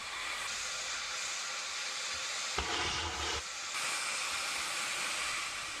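Steady, loud broadband hiss of geothermal steam venting continuously from the ground like a boiling kettle, with a brief rougher surge in the middle before settling back to a constant roar.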